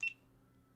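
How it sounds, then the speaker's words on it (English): A GoPro camera gives a single short, faint electronic beep, gone almost at once over a quiet room hum. "hopefully my GoPro is beeping at me"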